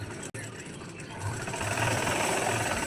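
Sewing machine running steadily as it stitches a double row of stitches along a dress shoulder seam, a continuous mechanical whir that picks up speed and grows louder midway, with no talking.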